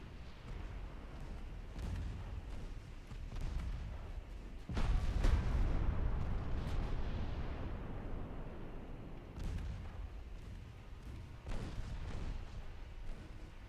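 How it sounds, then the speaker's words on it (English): Torpedo launch in the naval combat game Ultimate Admiral Dreadnoughts, heard as a heavy low booming rumble that swells midway and decays, with further muffled thuds and cannon-like blasts around it. "there goes their torpedo"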